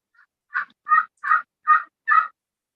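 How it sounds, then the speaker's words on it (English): A slate friction turkey call used for spring turkey hunting gives five clear, evenly spaced yelping notes, rising slightly in loudness after a faint opening note, alone with no talk. "that sounds like a slate call to me"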